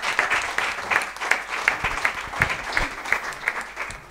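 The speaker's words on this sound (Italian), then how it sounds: "Facciamo un applauso a Dio." A church congregation gives a lively round of applause during a service, steady close clapping with individual claps standing out, lasting about four seconds.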